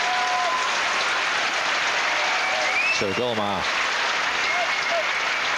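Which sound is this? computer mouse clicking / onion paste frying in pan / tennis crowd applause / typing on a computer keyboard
tennis crowd applause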